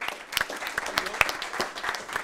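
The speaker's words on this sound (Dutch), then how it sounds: "Mag ik een warm applaus voor Ivo Tanis?" An audience at an Amsterdam climate pitch evening claps to welcome a speaker, a modest, fairly sparse round of applause with distinct individual claps, moderately quiet and brief.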